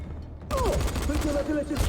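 A burst of rapid gunfire crackles through busy game sound effects in Dying Light, with a voice heard briefly among the shots.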